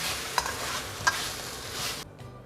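Grilled stingray stir-fried in red curry paste, a close steady sizzle with a couple of sharp scrapes from the spatula, then the frying drops away abruptly near the end.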